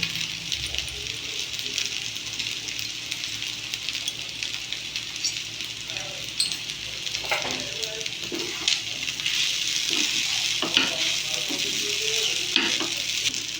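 Cheesy pasta with chili flakes being stirred in a pan, producing a constant loud sizzle with intermittent scraping strokes, nearby and unaccompanied by speech.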